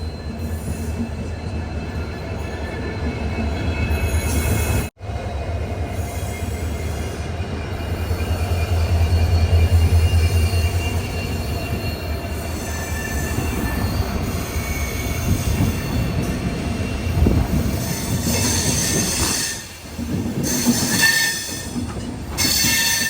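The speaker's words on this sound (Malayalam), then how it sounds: "ഇത് Vasco da gamma Shalimar Amaravati express ആണ്. ഇത് 1-ാം നമ്പർ പ്ലാറ്റ്ഫോമിലാണ് ഇപ്പൊ നിൽക്കുന്നത്." The Vasco da Gama–Shalimar Amaravati Express on platform 1 of an Indian railway station: a loud, continuous rumble of rolling coaches with wheel squeal and clatter, one sharp break near the start, no voices.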